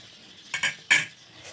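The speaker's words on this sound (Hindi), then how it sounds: "तो आटे को मिक्स कर लेते अच्छी तरह" A spoon stirs flour into homemade ghee in a pot, giving two or three brief, soft scraping strokes against quiet background.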